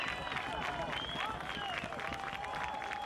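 A crowd at a boys lacrosse quarterfinal roars in a steady wash of cheering and clapping late in the game, while a commentator talks over the noise.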